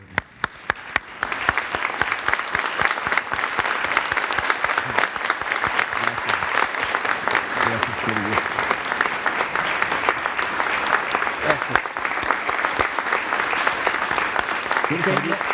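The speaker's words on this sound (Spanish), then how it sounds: "démosle un aplauso." An audience at a conversation event bursts into sustained, loud applause, a dense wash of clapping with a few voices mixed in, holding steady for about fifteen seconds.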